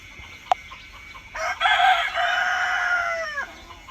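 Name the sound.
desi sonali chickens clucking and rooster crowing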